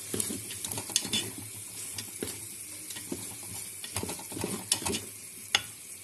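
Shrimp and rice vermicelli stirred in a pot of just-boiling water inside an electric multicooker, a quiet, continuous bubbling simmer with soft scraping strokes and occasional light clinks of the utensil.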